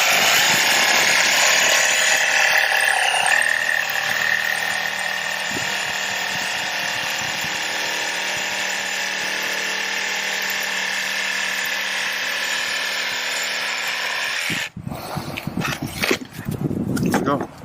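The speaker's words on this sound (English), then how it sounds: "This is just a regular wood blade on a cordless jigsaw" A cordless jigsaw with a regular wood blade cuts a rubber decorative concrete step liner with a loud, sustained buzzing rasp up close. The cutting stops abruptly near the end, followed by handling noises and brief talk.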